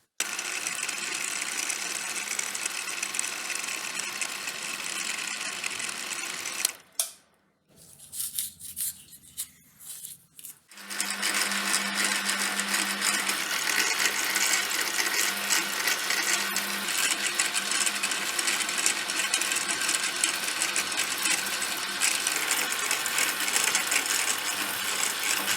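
An end mill held in a lathe chuck cuts metal flat, giving a steady harsh grinding whine that stops for a few seconds with light clunks and then resumes at the same level and runs on.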